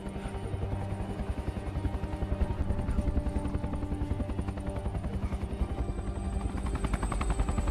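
A helicopter in a zombie film scene drones loudly and close, its rotor beating in a rapid, steady rhythmic thump with a continuous engine whine and no speech.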